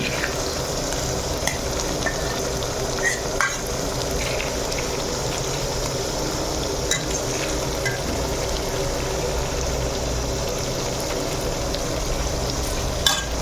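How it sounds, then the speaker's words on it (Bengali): Sliced onions sprinkled with salt sizzle and crackle steadily in a hot pan while a utensil stirs them, giving scattered scrapes over a continuous frying hiss. "পেঁয়াজে দিয়ে দিলাম একটু পরিমাণ মতো লবণ যাতে পেঁয়াজ তাড়াতাড়ি গলে যায় লবণ দিয়ে দিলাম এবং হালকা একটু চালিয়ে নেব"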